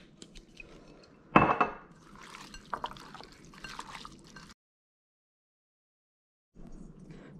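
Shad fish pieces stirred with cooking sauce and cooking wine in a bowl: a sharp clink of utensil on dish, then wet squelching and dripping, quiet and close, ending in a brief silence before more mixing.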